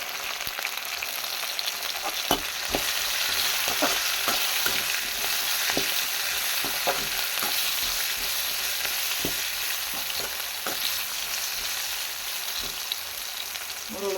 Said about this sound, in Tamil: வெங்காயம் நல்லா எண்ணெயிலேயே வேகணும். இந்த மாதிரி நல்லா வதங்கட்டும்.